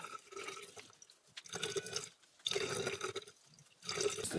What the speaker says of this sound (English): water comes out of here.